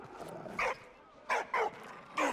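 Dog barks in the Valiant Hearts video game, coming in four short bursts spaced irregularly over a low background bed.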